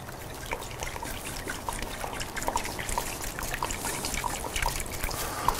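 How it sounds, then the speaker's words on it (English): A thin stream of rice wine vinegar and soy sauce pours steadily in a soft, close trickle, with faint drips near the end. "We're gonna do one part rice wine vinegar, one part soy sauce."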